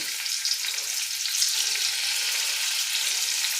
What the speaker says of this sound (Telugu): ఇప్పుడు ఆయిల్లో పన్నీర్ ముక్కలు వేద్దాం. ఫ్రై చేసుకోవాలి.